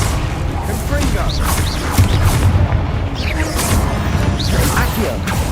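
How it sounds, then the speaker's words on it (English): A Confringo fire spell explodes in Hogwarts Legacy gameplay, with dense booms, crashes and whooshing bursts over a continuous roar of game effects. "Confringo!"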